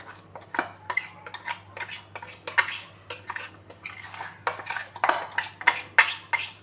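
A spoon scrapes and clinks against a pot in irregular bursts, stirring vattayappam batter with coconut, sugar and cardamom, close and moderately loud.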